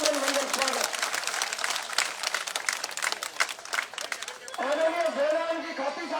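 Crowd applause greets a village sarpanch at a BJP candidate's rally welcome, dense clapping that fades into a man's amplified speech near the end.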